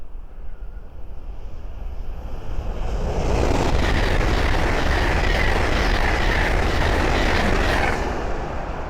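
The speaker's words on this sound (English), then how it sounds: "the next train to pass by is a Hull Train 800 going from London King's Cross to Edinburgh Waverley" A Hull Trains Class 800 rushes past on the East Coast Main Line at Great Wymondley, a broad roar that builds from a distant rumble to a loud, sustained pass with wind buffeting the microphone.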